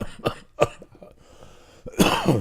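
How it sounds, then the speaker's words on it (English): Several harsh coughs close to the listener: two sharp bursts early, a quiet pause with faint rustling, then a heavier, raspy coughing fit at the end. "I can just be sitting here and start coughing."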